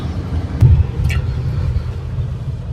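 Steady low engine and road rumble inside a moving car, close and fairly loud, with a couple of brief light knocks and no talking.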